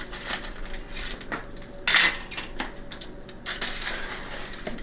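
A regular knife saws through keto pizza against a metal pan, giving a run of scraping, clinking metal-on-metal strokes with one sharp louder clank midway.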